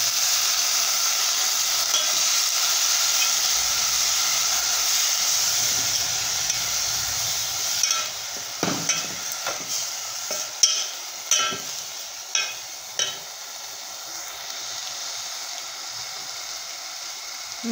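Dill and moong dal frying in a pan give a soft steady sizzle, then a run of distinct scraping and knocking stirs in the second half, with no talking.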